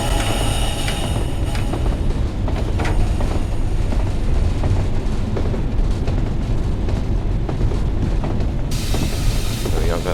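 Class 31 diesel locomotive on the Tees Valley Line in Train Sim World 5, a steady loud rumble of engine and rolling wagons with mechanical clanks throughout, no talking.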